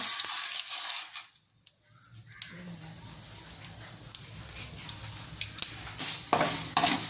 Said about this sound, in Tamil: நல்லா செவக்க வறுத்துக்கலாங்க